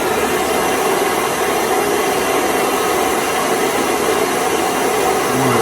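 Torch heating a copper tube to make a socket joint, a steady, loud, broadband roar of flame that holds constant without pause.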